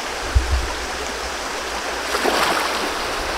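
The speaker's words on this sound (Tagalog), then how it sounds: "pero grabing lalim na ilog." Deep river water flows in a continuous rushing wash, steady and fairly close, with a couple of low thumps early and a brief splashier swell near the end.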